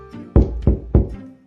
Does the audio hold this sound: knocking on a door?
yes